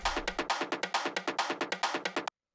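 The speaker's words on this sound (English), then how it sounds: "So this is that constant percussion loop you hear in the background." A constant percussion loop from a drum rack in a raw techno track ticks along in fast, even, crisp hits, about sixteen in a row, soft and steady before cutting off abruptly near the end.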